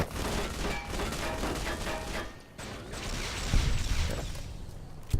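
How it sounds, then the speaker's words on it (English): Gunfire in the Fallout New Vegas video game, a dense, continuous clatter of shots and mechanical rattles for several seconds, then heavier thuds and impacts near the end, with no talk over it. "Who's that, and why are you shooting me?"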